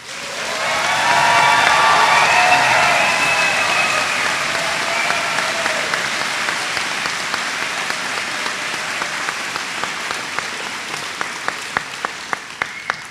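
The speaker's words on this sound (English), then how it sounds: "let's have a round of applause first for the Trent School of the Environment" A convocation audience at a university ceremony breaks into sustained applause, loud and dense at first, then thinning into scattered individual claps toward the end.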